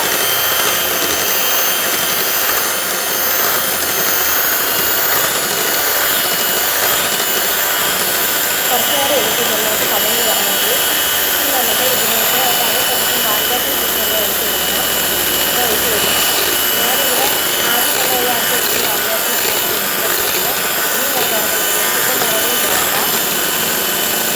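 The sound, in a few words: electric mixer beating plum cake batter at speed 1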